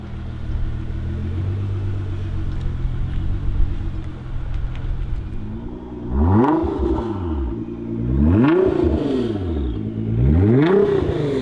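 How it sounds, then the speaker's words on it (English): A 2021 Nissan GT-R with a Stage-2 flex fuel package idles with a low rumble, then revs three times in sharp swells through its aftermarket exhaust, close and loud with no talk. "Absolutely killer exhaust note."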